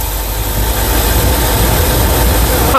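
A small engine fitted with an untuned, straight-out-of-the-box Chinese carburetor runs steadily, a loud, close, rough rumble holding an even idle-like drone throughout.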